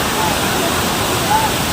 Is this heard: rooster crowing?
no